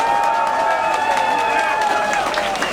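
An audience applauds at the close of a speech, a steady wash of clapping and crowd noise that fills the short span at a fairly loud level with no pause.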